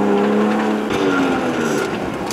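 A manual Genesis Coupe facelift with a 380 V6 engine drives a warm-up lap on a track. The engine drones steadily under load and the pitch rises as it revs, with brief tire noise.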